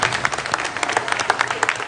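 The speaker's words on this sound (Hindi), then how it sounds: "जरा शोर मचा के बताया, तालियां बजा के बता दें जिनके ख्याल में सही जवाब बताया।" A studio audience on a Pakistani TV quiz show breaks into steady dense applause, many hands clapping close and loud with a faint voice underneath.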